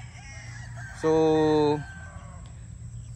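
A rooster crows once, loud and close, on a dragon fruit farm where chickens roam between the posts, with quiet farm ambience around it and a brief word spoken.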